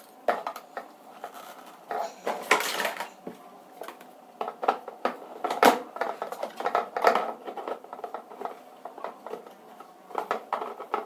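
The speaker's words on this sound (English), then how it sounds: "Don't worry about the sound, I'm cooking." Pots, pans and utensils clatter in a kitchen during cooking, with irregular clinks, taps and scrapes at moderate distance, some louder knocks standing out.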